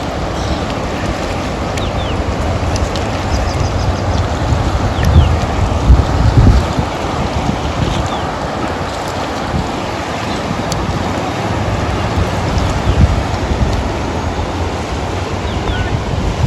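Sabarmati river water rushes below Dharoi dam as a broad, steady roar, buffeted by heavy wind noise with occasional gusting thumps.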